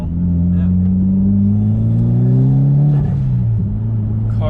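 A tuned Mitsubishi Lancer Evo X engine hums steadily close by, its pitch rising smoothly as it revs and then dropping back.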